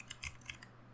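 A computer keyboard is typed on in a few quick, light, close keystrokes, with soft clicks spaced across about a second, quiet and with no talk.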